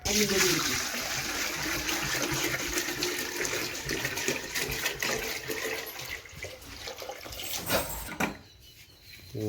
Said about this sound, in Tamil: தண்ணி ஊற்றி காட்டுறேன் பாருங்கள்